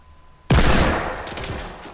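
A single loud, close gunshot from a Fortnite match cracks out abruptly and rings off into a lingering noisy tail, with no voices over it.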